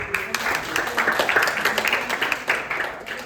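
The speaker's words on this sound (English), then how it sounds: "Give applause to Alima." A classroom group claps for a student after a microteaching presentation, a modest patter of hands with a loose rhythm, fairly close and moderately loud.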